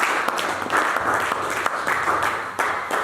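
A church congregation applauds steadily, with dense overlapping claps and a few sharper individual hits rising above the broad wash, fairly loud throughout.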